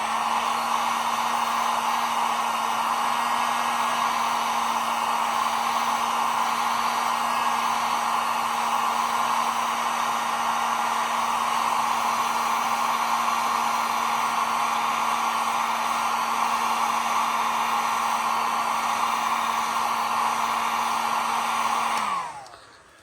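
A heat gun blasts hot air onto a plastic figure part in a steady, loud whooshing drone with a constant hum, running alone for over twenty seconds before switching off and winding down.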